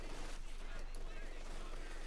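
A Maxim machine gun fires in rapid sustained bursts during a Company of Heroes 2 battle, mixed into dense, muffled combat noise with a voice talking over it.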